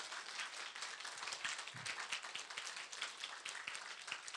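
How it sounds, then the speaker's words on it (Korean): Audience clapping during a health seminar lecture, a steady wash of many hands applauding throughout at moderate, even loudness, without talk. "왜 박수는 치죠"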